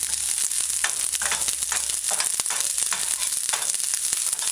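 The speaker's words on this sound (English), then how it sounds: "Add your sliced onions to the eating little bit of oil. Stir it in a few times, allow it to saute." Sliced onions sauté in a little hot oil on a stovetop for an ackee stew, giving a steady close sizzle and crackle with a few stirring scrapes throughout and no talk.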